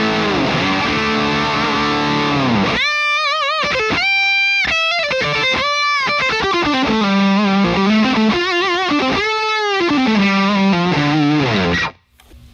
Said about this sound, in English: Let me switch over to DS1.